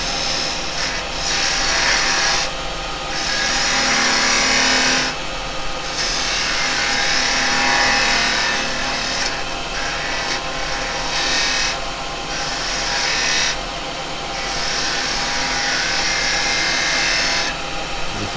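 A carbide detail chisel cuts a bead on a wood lathe with a steady, loud, hissing scrape of tool on spinning wood, broken by short pauses as the cut lifts and restarts against the lathe's constant hum.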